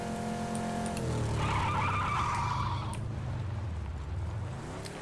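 Car engine revving with a loud tire skid in the PUBG video game, a steady motor drone with a screech in the middle that fades out over about five seconds.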